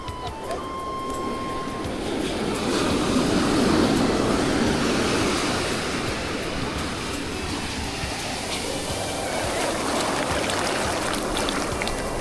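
Tap water runs steadily over a sea crab as it is rinsed of sand, a continuous broadband splashing and trickling that stays fairly loud and even throughout, with no talking.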